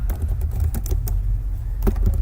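Close clicking of a computer keyboard while someone writes code, with irregular keystrokes in short flurries and brief pauses, no voices.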